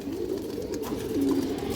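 An old-line Kajla pigeon with soft, throaty cooing that rolls on continuously at close range and swells slightly toward the end, with no talking.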